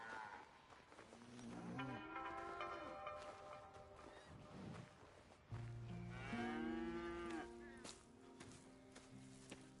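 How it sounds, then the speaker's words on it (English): Cattle mooing on a farm in the video game Red Dead Redemption 2: several long, low, drawn-out moos, some overlapping, close by over a steady background hum. "Here's the cows."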